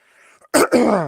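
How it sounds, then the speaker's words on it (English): A single loud, harsh cough bursts out after a quiet moment of faint background murmur, followed by a second raspy throat-clearing push. "I do have a little cough or something."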